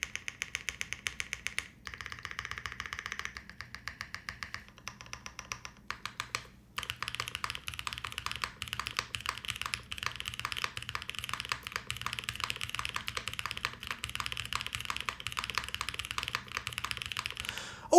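Typing on a Transition TKL tenkeyboard mechanical keyboard, a fast close stream of deep clacky keystrokes with short pauses and occasional heavier spacebar hits, no voices.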